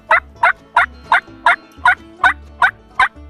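A hand-operated turkey call, played by a hunter, imitates a turkey yelp: nine sharp, evenly spaced clucking notes strung together in a steady, loud, close rhythm with no talk.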